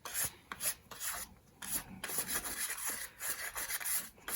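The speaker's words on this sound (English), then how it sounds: "I've got a real stiff stencil brush here." A stiff stencil brush scrubbing excess gilded leaf off a card, close, quick bristly rubbing strokes in uneven bursts, alone with no talk.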